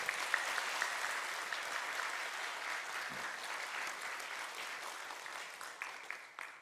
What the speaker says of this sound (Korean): 또 선교사님 같이 여러분 박수해 주시기 바랍니다.